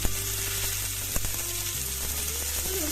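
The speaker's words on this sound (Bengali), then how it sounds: "ফুলকপি আলু আমি ভালো করে ভেজে নিচ্ছি" Cauliflower and potatoes sizzle steadily as they fry in a pan with salt and pepper, a constant dense crackle with a couple of sharp clinks of utensils against the pan.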